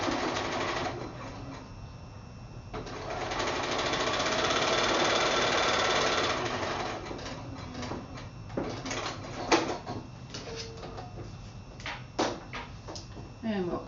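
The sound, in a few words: sewing machine stitching a quilt block seam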